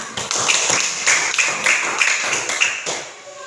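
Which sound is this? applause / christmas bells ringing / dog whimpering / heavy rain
applause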